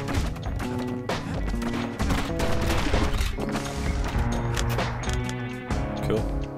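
Dueling pistols fire in rapid bursts in the video game Bastion, dense sharp cracks and thwacks layered over a continuous musical game soundtrack, loud and busy throughout.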